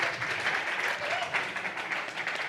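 An audience at a Central Oregon PubTalk claps and cheers for Ahoya, a full, sustained burst of applause filling the room at close range.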